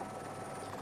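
A helicopter tracking racing sailboats out to sea gives a steady, fairly faint broadband rotor rush for under a second, with no voices.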